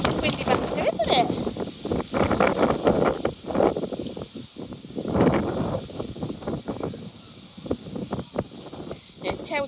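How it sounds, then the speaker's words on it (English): Strong wind gusts from Storm Kathleen buffet the microphone during an outdoor walk with a dog, roaring in surges under a person's talking. "Gosh, it's windy, Baxter, isn't it?"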